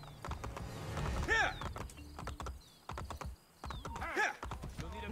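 Horse hooves clip-clop in Assassin's Creed Brotherhood, a run of close, steady hoofbeats mixed with game effects and clanks, and a voice briefly rises over them.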